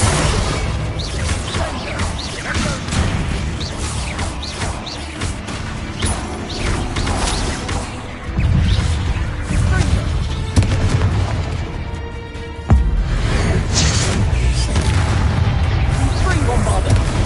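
Bombarda and Confringo spell explosions in Hogwarts Legacy gameplay, repeated heavy booms and crashing blasts over a dense, loud battle din, with a sharp impact near the end and a voice calling out under the action.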